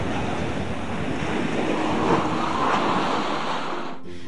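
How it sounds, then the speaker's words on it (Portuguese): Sea waves surge and wash inside a sea cave in the open sea, a steady broad roar with gusty wind-like rumble that eases near the end, no voices. "nós estamos aqui numa gruta, no meio do mar"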